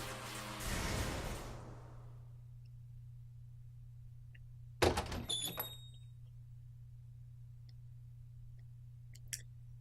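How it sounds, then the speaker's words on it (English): A door-opening sound effect in the game Shibuya Scramble: a sharp click and short sliding rattle midway through, preceded by a soft whoosh, over a quiet steady hum with a faint tick near the end. "He opened the door to the cafe with the practice of a regular."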